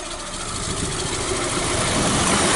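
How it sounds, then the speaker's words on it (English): A 2006 Hyundai Tucson engine, prone to losing power, idles just after starting: a steady, close, rough droning rumble that rises slightly in loudness, with no one speaking. "let's start the vehicle so you can hear how it starts"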